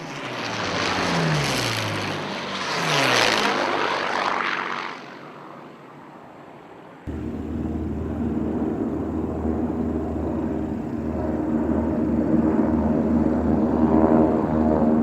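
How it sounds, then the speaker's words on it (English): Propeller engines of attacking aircraft in a Pearl Harbor attack reenactment, a loud continuous drone that shifts and dips partway through, then carries on as a steady rumbling hum with no voices. "As the drone of the enemy aircraft fades away into the distance"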